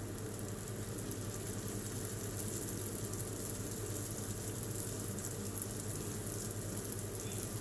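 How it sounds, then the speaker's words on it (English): Johnny cakes and dumplings fry in hot oil, a steady, faint crackling sizzle with low bubbling that carries on evenly and alone. "I'm just going to now just literally drop my Johnny cakes in, and they're just sizzling away really nicely."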